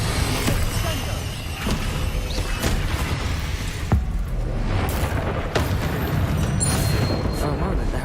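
Confringo spell blasts from Hogwarts Legacy go off as sharp booming impacts among continuous game combat noise, with a voice speaking throughout.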